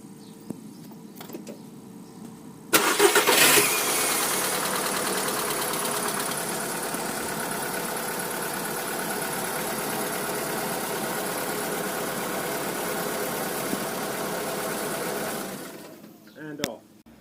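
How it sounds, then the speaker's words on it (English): A car engine cranks and catches abruptly, then idles steadily and fairly loud for about twelve seconds before being switched off, with quiet sounds around it before and after. "Okay, we just start the car."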